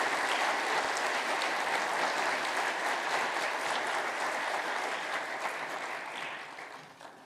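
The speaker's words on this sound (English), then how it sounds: "I'd like to just ask for another round of applause for her right here." Sustained audience applause after a keynote talk, dense and steady from a large crowd, holding strong before tapering off at the end.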